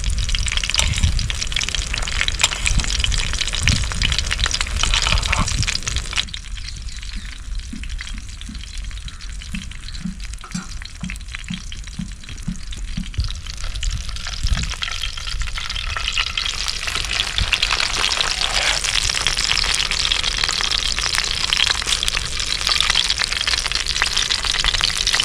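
Mackerel frying in oil on a flat tawa griddle, a steady loud broadband sizzle throughout with a brief quieter stretch of lower crackle in the middle, no voices.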